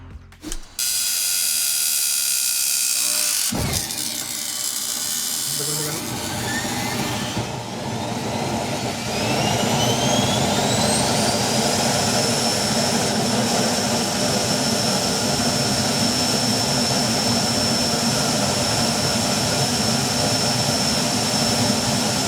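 A small electric jet engine spools up with a rising whine, then roars steadily at high pitch, loud and close, with no talking.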